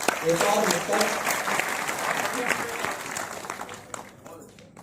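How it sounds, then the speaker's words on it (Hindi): An audience claps at a Rajput community gathering honouring great figures, a loud burst of applause from a crowd that gradually tapers off over a few seconds. "एक बार और आपकी ताली चाहता हूं"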